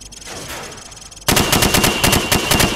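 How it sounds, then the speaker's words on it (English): Rapid automatic rifle fire from the hip at practice targets in Call of Duty: Modern Warfare, a loud close burst of sharp cracking shots starting abruptly after a quiet stretch of low ambience, with no talk. "Now, shoot at the targets while firing from the hip."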